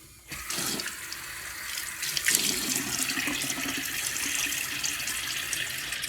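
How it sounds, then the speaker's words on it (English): Tap water runs steadily into a sink as a face is wetted before a shave with a safety razor, a continuous close splashing hiss that starts abruptly and holds to the end without talk. "Let me get my face wet."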